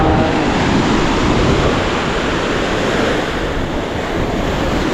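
Steady roar of ocean surf washing onto the shore, loud and continuous, with wind buffeting the microphone throughout.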